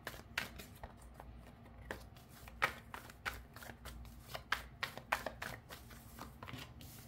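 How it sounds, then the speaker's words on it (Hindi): Tarot cards are shuffled by hand, making faint, rapid papery snaps and riffles in an uneven rhythm against a quiet room background. "नाइट ऑफ कप्स का कार्ड है पहला।"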